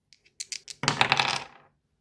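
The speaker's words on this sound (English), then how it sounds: "I'm going to keep on rolling the dice until I get to at least 50 pages." Dice clatter onto a hard surface: a few quick light ticks followed by a dense rattling tumble that settles and dies away within about a second, close and fairly quiet with no voices.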